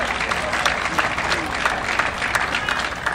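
Spectators at a US Open pickleball championship match applaud a finished point with steady, dense clapping from a sizable crowd, continuous throughout at moderate distance, with faint commentary voices underneath.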